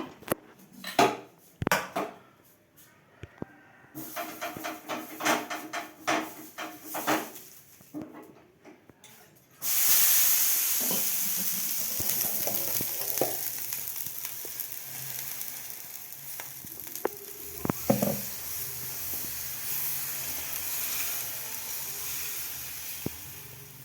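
A brown chickpea dosa sizzles loudly on a hot pan as fresh batter hits it, a steady frying hiss that follows a run of utensil clatter and scraping.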